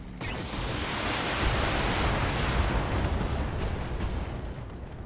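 A turret is destroyed in the BattleTech video game, a loud, sustained roaring blast of broadband rumble that swells after a brief silence and holds for several seconds before easing slightly.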